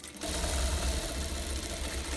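A sewing machine runs a steady top-stitch across the top of a fabric face mask, a continuous close mechanical whirr after a brief quiet start.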